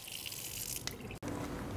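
Water runs from a workshop tap during handwashing, a steady close hiss and splash that fills the moment, briefly cut by a short dropout before it resumes.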